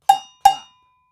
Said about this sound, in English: So here we have the Agogo Bell.